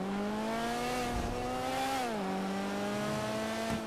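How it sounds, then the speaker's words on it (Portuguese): A small motorbike in GTA V revs hard with a continuous high, buzzing engine note that climbs, dips briefly as it shifts, then holds steady, loud and close without any talk. "Muita força uma motinha dessa"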